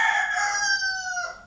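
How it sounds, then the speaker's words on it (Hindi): A rooster crows once, a loud, close, drawn-out cock-a-doodle-doo that fades at the end, heard alone. "मुर्गे की आवाज़ सुन लीजिए।"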